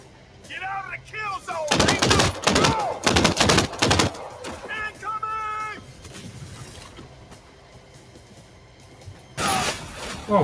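Bursts of rapid gunfire from a Crime Boss: Rockay City shootout, loud clustered volleys early, then a lull with game chatter before another burst near the end.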